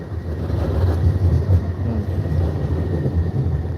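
A train passes between tracks near Puerta Jerez, a steady low rumbling roar that stays loud and constant throughout with no voices heard.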